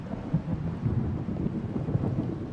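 A theatre-scene thunder effect gives a low, continuous rumble with rain-like hiss, moderately loud and steady for a few seconds, with no voices over it.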